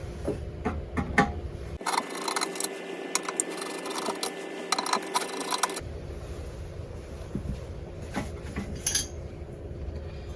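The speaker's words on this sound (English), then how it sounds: "there's 3 screws on the top right here I'm going to remove" Small metal screws being backed out of the recoil starter cover on a vintage 1960 West Bend Model 2901 2 HP outboard motor, with faint clicks and light tool contact against a quiet shop background.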